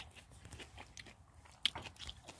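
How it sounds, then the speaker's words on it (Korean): Someone chewing crunchy aged kimchi outdoors by a campfire in the cold, soft close bites and crunches with one sharper crunch, faint and without talk. "맛있게 한번 먹어보도록 하겠습니다."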